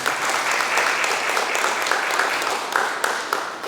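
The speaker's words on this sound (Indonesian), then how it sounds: "Tepuk tangan dulu." Congregation applauding during a Sunday church service, a steady dense wash of clapping from many hands that holds throughout with a few sharper claps standing out near the end.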